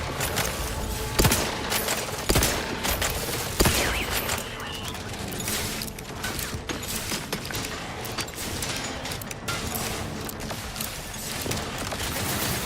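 Sustained gunfire from a firefight in the video game The Outer Worlds, with several heavy shots early on, then dense, continuous rapid fire that stays loud throughout.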